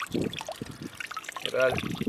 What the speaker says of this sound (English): I've got the pipe off and a lovely colour of coolant coming out there